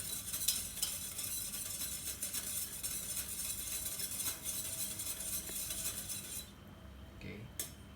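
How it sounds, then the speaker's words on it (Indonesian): Homemade yogurt mixture being stirred in a container, a continuous soft scraping and clinking of a spoon at close range that stops near the end, with faint background noise and no clear speech. "Aduk hingga merata."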